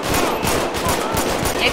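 Dense automatic gunfire in GTA 5, a rapid continuous rattle of shots that is loud and close for the whole stretch, with no talking.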